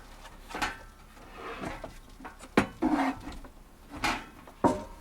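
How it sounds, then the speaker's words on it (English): A drawer being pulled out of a camper van unit, giving a series of wooden knocks, scrapes and rattles spaced irregularly over several seconds, close by with no talking. "Pull the drawer out."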